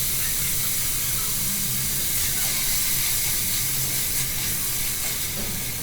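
Green peas hit hot oil with garlic in a home stew pan, giving a steady, dense, close sizzle that holds evenly from start to finish with no talking.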